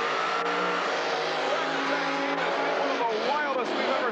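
A monster truck engine roars continuously at a 1989 USHRA arena show in Anaheim, a loud, sustained drone under a commentator's excited play-by-play.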